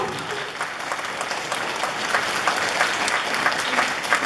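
Audience applause welcoming a Christmas nativity play troupe, a close, lively wash of many hands clapping that builds slightly stronger toward the end, with faint voices in the crowd beneath it.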